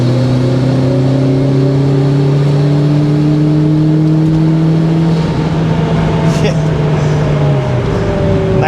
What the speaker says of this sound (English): Nice turbo noises.